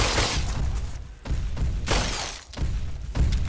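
Gunfire aimed at a large enemy in The Brookhaven Experiment, a PlayStation VR game: a few loud, harsh, cracking bursts spaced about a second apart, each with a dense broadband roar that briefly drops away between shots.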